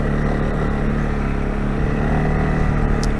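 A 2022 CFMOTO CFORCE 625 ATV rides along in two-wheel drive and high range, its engine giving a steady, close, continuous drone with no change in pace and no talk over it.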